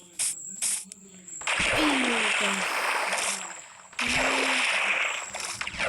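In the block-building video game Mini Craft, a character falls into water, making two loud, watery splash-and-gurgle bursts a few seconds apart, with quieter game sounds and a voice in between.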